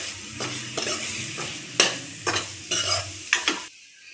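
Roasted semolina mixed with coconut and milk is stirred in a pan for mango ladoo, a soft sizzle under repeated scraping strokes, close and fairly quiet, ending abruptly.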